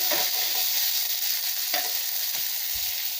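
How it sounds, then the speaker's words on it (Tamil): Onions sautéing in a pan for a red chilli potato masala, a continuous close hiss of frying with a few soft stirring knocks. "வெங்காயம் போட்டு நல்லா வதக்கலாங்க."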